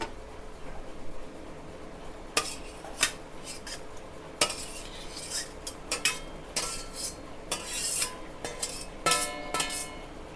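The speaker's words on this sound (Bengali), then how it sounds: "এবার আমি ভেজে রাখা চিংড়িটা দিয়ে দেবো।" A metal spoon clinks and scrapes against a pot as fried prawns are stirred into simmering malaikari curry, with irregular bright taps and scrapes throughout, close and fairly loud, no talking.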